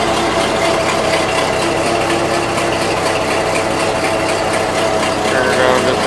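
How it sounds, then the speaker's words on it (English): A 1941 Ford 9N tractor engine on a 6-volt system idles steadily up close, a loud, even mechanical running with rhythmic ticking and clatter throughout. "You cannot say this tractor does not run good for 6 volts."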